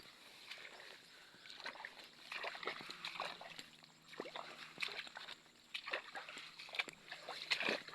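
Water splashes and sloshes continuously as someone moves along an overgrown rice paddy dike, a busy, moderately faint wash of irregular splashes with no clear talk.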